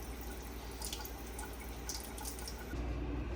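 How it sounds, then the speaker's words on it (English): Homemade butter rinsed under a running kitchen tap, a steady close hiss of flowing water with light splashing that thickens slightly toward the end, no voices. "And now I get to rinse this butter."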